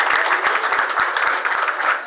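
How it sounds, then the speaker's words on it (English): Audience applause for a guest speaker's fiancée, a dense, loud, continuous burst of many hands clapping with sharp individual claps standing out. "Can we give her a round of applause?"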